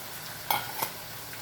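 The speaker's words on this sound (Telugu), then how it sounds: "ఇప్పుడు టమాటా వేసుకోవాలి." Tomatoes dropped into a hot pan for a bitter gourd and tomato curry, a faint sizzle broken by two quick stirring scrapes.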